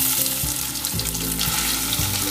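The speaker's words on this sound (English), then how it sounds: "Add the mustard seeds around half teaspoon and let it splutter." Half a teaspoon of mustard seeds splutters in hot oil, giving a loud, close, continuous sizzle with rapid crackling pops and a few stronger bursts.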